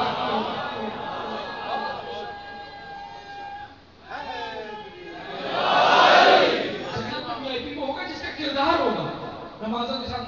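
A majlis crowd gathered for Muharram raises chanted religious slogans in a swelling mass of voices, loud and reverberant, around a speaking voice that carries on through much of it.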